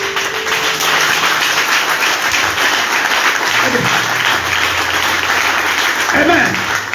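A church congregation breaks into sustained applause during a prophetic worship service, a dense, loud wash of clapping that carries through the whole stretch with voices calling out faintly underneath.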